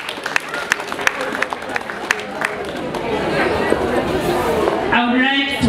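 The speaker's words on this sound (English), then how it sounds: "We give a hand clap to the Almighty God." Audience at a high school prom party claps, starting with a few scattered hand claps and swelling into sustained applause with crowd chatter, a voice rising at the end.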